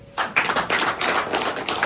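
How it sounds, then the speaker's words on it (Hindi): A crowd at a business plan presentation claps together, a dense run of overlapping hand claps that starts abruptly after a brief quiet moment and continues steadily, fairly close and loud. "ताली लगाओ यार"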